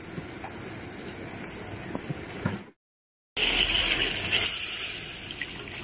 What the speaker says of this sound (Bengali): জল ঢেলে দেওয়া হলো